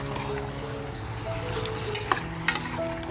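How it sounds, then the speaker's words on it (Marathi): Mutton frying in a pan over a full gas flame, a steady sizzle with stirring scrapes and a couple of sharp clinks near the end, close and continuous. "हे व्यवस्थित मटण आपल्याला सतत फ्राय करत राहायचं आहे"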